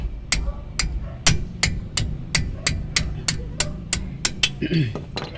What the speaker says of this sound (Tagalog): kung bakit ko ho pinupukpok ang yabe